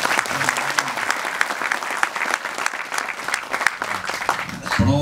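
An audience in a theater claps after a film screening, with dense sustained applause filling the room that continues steadily, then a voice begins at the very end.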